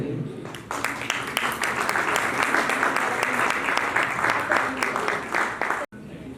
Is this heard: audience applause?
yes